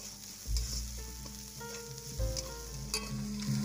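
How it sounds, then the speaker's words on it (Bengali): Onion and green chillies fry in hot oil, a steady close sizzle with stirring knocks of a spoon against the pan, no talking. "এই পেঁয়াজটাকে আমি বাদামি রং করে ভেজে নেব।"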